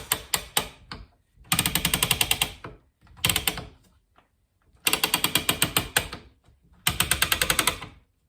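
A loom's ratchet clicks as the warp is pulled while threading it, bursts of rapid mechanical clicking separated by pauses, close and crisp, with no talking.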